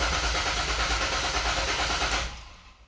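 A car engine cranking or turning over under a steady, close, loud mechanical drone that cuts off near the end.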